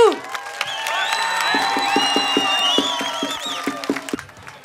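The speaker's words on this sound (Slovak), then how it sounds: "Potlesk pre Aničku!" At a Romani singing contest, an audience claps in a quick, even rhythm while voices whoop and ring out above it, then the clapping trails off into scattered claps.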